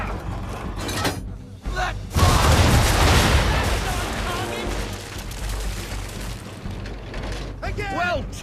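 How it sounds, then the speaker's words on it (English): Ship cannons fire a broadside in Assassin's Creed 3: after a brief voice, a heavy booming blast erupts and rolls on as a long rumbling roar, fading slowly with further shouting near the end. "Bring her round broadside, and when all guns are on target, call fire. Ready up to fire!"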